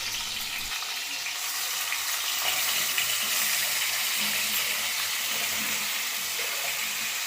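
Green chillies and ginger garlic paste frying in hot oil, a continuous close sizzle and crackle holding steady throughout with a brief clink near the start.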